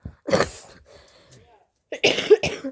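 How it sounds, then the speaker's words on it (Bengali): A person coughs twice, two short harsh bursts close up separated by a quiet pause. "আর এই যে আমার কাশি তো আমার আর পিঠ ছাড়ছে না"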